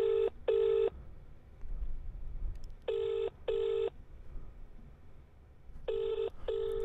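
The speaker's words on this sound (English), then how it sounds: "Ringing. Just ringing." A telephone rings in three paired bursts, each double ring separated by a pause, fairly quiet over low background noise.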